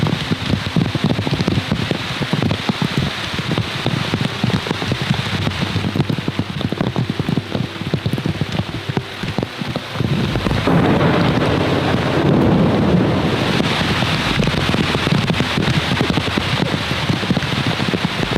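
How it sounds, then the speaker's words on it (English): Heavy rain pours steadily in the Amazon jungle with crackling drops on a surface, and a low rumble of thunder swells partway through. "I think it's raining."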